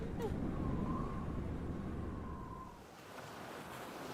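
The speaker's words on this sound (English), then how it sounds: "Ocean?" Ocean waves played as a sound effect, a steady broad wash of surf with rumbling low noise and a wind-like hiss, easing briefly before continuing, with no one speaking.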